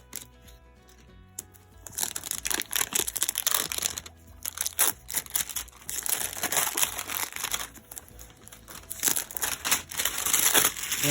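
Plastic packaging around a CNC T4 tattoo machine box is cut and torn open, giving loud, continuous crinkling and crunching with brief pauses, close to the listener.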